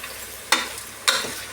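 Chicken with salt and turmeric is stirred in a pan for a village-style chicken bassaru: two sharp scraping strokes about half a second apart over a low, steady sizzle, close by, with no talking.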